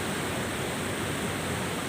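A river swollen by an hour of heavy rain rushes past close by, a loud, dense, unbroken roar of churning water with no pauses.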